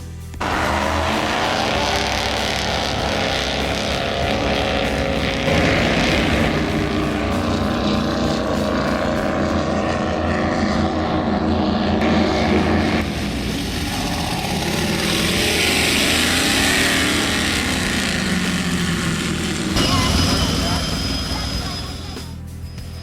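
Powerful go-fast speedboat engines of thousands of horsepower roar steadily and loudly for the whole stretch, rising and falling slightly in pitch, with rushing water and wind noise underneath.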